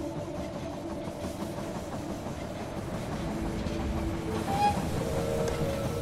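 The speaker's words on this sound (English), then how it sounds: "The train has arrived at the station." A train pulls into a station in the video game They Are Billions, a steady rumbling roll with faint clickety-clack and a brief high squeal near the end, heard alone throughout.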